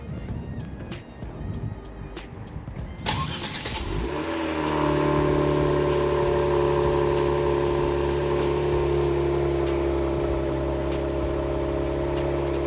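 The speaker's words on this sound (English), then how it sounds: "So here's a quick cold start." A Kia Stinger with OEM valve mufflers and secondary catless downpipes cold-starts: starter cranking gives way to a loud, sustained, elevated idle drone, with a regular ticking pulse running throughout.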